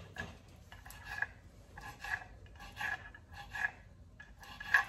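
A knife slices octopus tentacles into small pieces on a kitchen board, a series of soft rasping cuts in an uneven rhythm, close and fairly quiet, with no talking.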